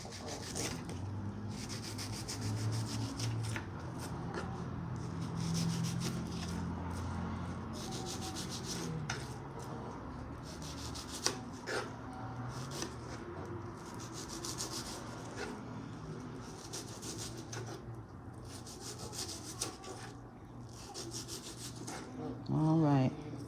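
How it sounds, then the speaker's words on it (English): A knife chops and slices onion for steaks on a board, steady rubbing strokes and scattered sharp taps running throughout, with occasional soft voices in the background. "I'm cutting up the onion"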